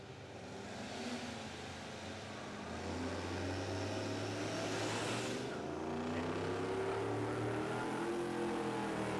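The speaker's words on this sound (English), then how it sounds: "I heard some cars firing up." Engines of no-prep drag racing cars at Warwick Dragway in Australia, a continuous loud rumble of idling and revving that rises and swells throughout, heard outdoors from the crowd area with no talk.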